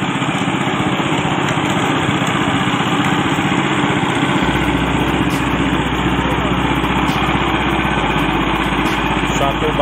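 A roadside sugarcane juice press machine runs by the beach, its engine droning steadily and loudly throughout, with a lower motor hum that thickens partway through while a cane stalk is fed in.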